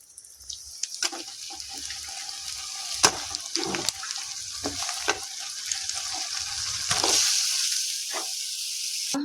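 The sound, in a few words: meat added to hot spiced oil, frying in pan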